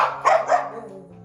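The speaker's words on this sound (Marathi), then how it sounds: "पिकू कसा भुंकतो भो भो भो" A dog gives two quick, sharp barks close by and fairly loud, followed by a short fading tail.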